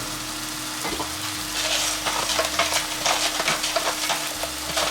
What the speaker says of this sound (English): Now I'm gonna start heating up this pan to cook my eggs.